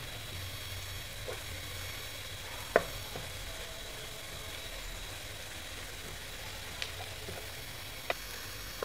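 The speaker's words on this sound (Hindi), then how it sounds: "मेथी हमारे बहुत अच्छे से फ्राई हो चुकी है।" Fenugreek leaves (methi) frying in a pan give a steady, even sizzle throughout, broken by a few sharp clinks of stirring, with no voices.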